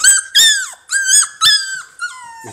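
American Bully puppies let out a series of high, squeaky whimpers and yelps, about five close, loud cries in uneven bursts with no talking.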